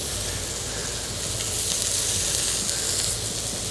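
Scallops sear in oil on a commercial range top, a steady, dense sizzle of frying that holds loud and close without a break, with no voices over it.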